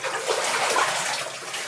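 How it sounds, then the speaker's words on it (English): Water seeping and trickling in through the walls of an old collapsed mine working, a steady broadband wash of running water, fairly close and continuous throughout. "you can see we've got water coming out of the deck above"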